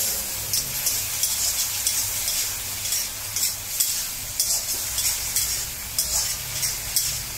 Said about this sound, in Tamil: ஒரு வதக்கு வதக்கிக்கலாம்